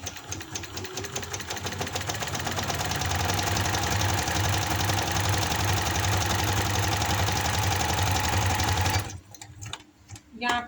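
A sewing machine stitches a capri hem, running steadily and loudly for about nine seconds with a fast mechanical chatter, then stops and leaves faint handling noises.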